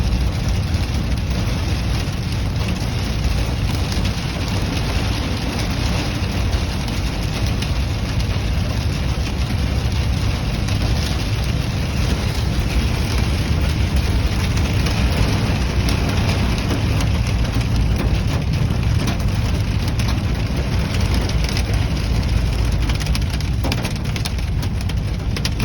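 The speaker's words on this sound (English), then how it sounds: "I can hear hitting the roof. Yeah, that's definitely. It's just a long hail." Hail drums steadily and densely on a car roof during a Texas hailstorm, a constant close patter with a low engine rumble underneath, continuing without pause and with no voices.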